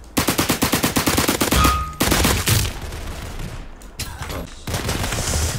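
Rapid Uzi bursts in the video game Criminality, a fast rattling string of shots followed by further bursts after brief pauses, loud and close.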